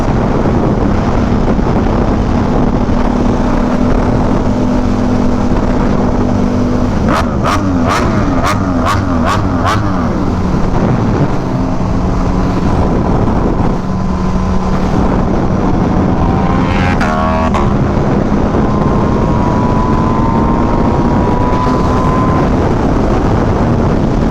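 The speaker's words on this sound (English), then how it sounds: "listen to his bike, because this bike is bone stock" A stock MV Agusta motorcycle's steady engine drone with a rising and falling pitch as it revs, a brief burst of rapid clicking partway through, over constant wind rush.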